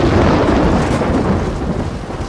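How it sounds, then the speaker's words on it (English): A razor hail storm in the video game Gears of War 2 roars as a dense, loud, continuous wash of pounding hail and rumbling noise with no pauses and no voices over it. "Oh shit, razor hail."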